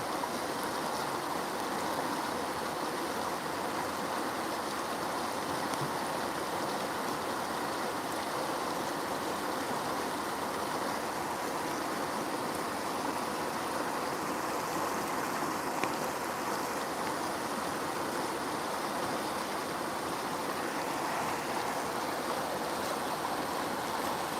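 Rain-swollen stream rushing strongly over rocks, a dense, continuous roar of flowing water that holds steady and fills the whole scene with no voices.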